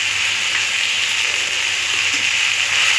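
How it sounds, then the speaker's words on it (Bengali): Ground ginger and cumin paste frying in a pan for a Bengali fish curry with cauliflower, giving a steady, close, even sizzle and hiss throughout with no talk. "আদা আর জিরে একসাথে বাটা আছে"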